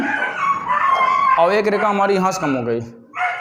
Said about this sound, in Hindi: यहाँ देखिए बाहर कुत्ते भी भौंक रहे हैं